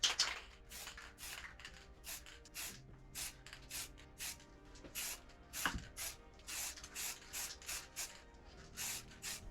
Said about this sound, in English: if you're going to use spray paint, do it outside and wear a mask